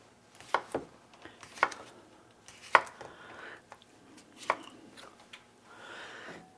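Potatoes being chopped for a chicken artichoke hearts dish, a handful of separate knife strikes on a cutting board at an uneven pace, fairly close and moderately loud, with soft rustling between cuts.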